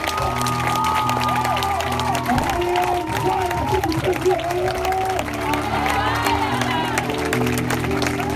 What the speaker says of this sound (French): Si tu acclames très fort